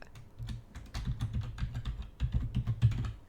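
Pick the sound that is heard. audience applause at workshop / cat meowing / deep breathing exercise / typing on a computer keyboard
typing on a computer keyboard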